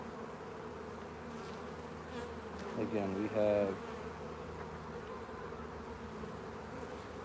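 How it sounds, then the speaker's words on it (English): Honeybees buzzing steadily in an open hive during a live inspection, a close, continuous hum that swells louder for a moment midway while someone speaks briefly. "You guys just take a second to appreciate all that right there. Those bees just working,"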